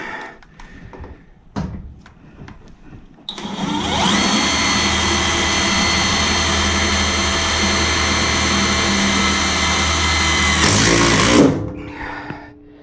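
A power drill fitted with a long drill bit whirs at a steady high pitch for several seconds, then winds down, with faint clatter before and after.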